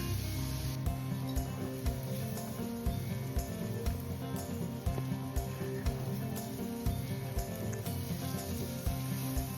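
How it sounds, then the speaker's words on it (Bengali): Mango sautés with spices in a pan, a soft, close sizzle punctuated by regular scraping stir strokes, fairly quiet overall. "আমের সাথে মশলাগুলো বেশ করে কষিয়ে নেব।"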